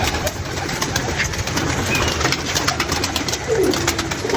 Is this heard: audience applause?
no